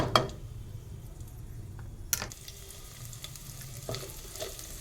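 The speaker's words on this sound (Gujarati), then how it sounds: "અને લસણ જે છે એને થોડુંક આપણે ગોલ્ડન બ્રાઉન કલરનું થવા દઈશું." Chopped garlic frying toward golden brown for palak paneer, with a soft steady sizzle under sharp clinks of a spoon against the pan at the start and midway, fairly quiet and close.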